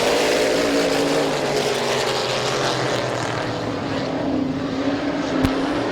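Race cars roar in an eight-lap heat at Midvale Speedway, a dense, loud, continuous engine drone from a pack of cars at speed, with a faint announcer's voice partly buried beneath.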